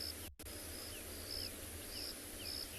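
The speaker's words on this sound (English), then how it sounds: "You can hear quite a lot of birds calling at the moment, getting ready for the night's rest." Birds call at sunset near a riverbed on a safari, with short repeated chirps and whistles at moderate distance over a steady hum of insects and evening ambience.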